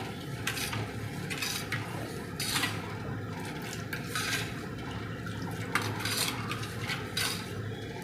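A hot milk mixture for kalakand rabdi being stirred in a pan, giving a steady wet churning rush with soft, repeated scraping swishes, close and without speech.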